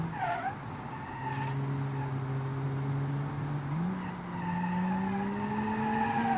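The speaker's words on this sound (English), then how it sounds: "Come on, stop locking the tires." Tires lock and skid on a mid-engine rear-wheel-drive car in the BeamNG.Drive driving game, a long steady squeal that bends upward in pitch partway through, running over engine noise.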